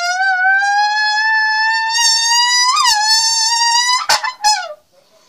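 A voice shouts through clenched teeth into a soda bottle to imitate a car engine: one loud, buzzing tone that holds and slowly rises for about four seconds, then breaks into a few short bursts before stopping.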